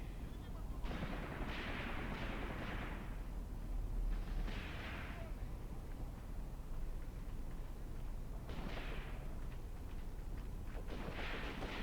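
Distant tank and infantry gunfire from a Graviteam Tactics battle, a low continuous rumble of shots with occasional louder bursts, heard alone without talk.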